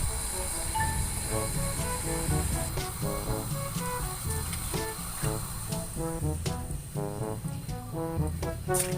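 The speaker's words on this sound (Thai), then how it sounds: "น้ำของเราก็เดือดได้ทีแล้วนะคะ" A pot of water at a rolling boil before eggs are blanched, giving a steady, full hiss that runs the whole time beneath louder melodic background music.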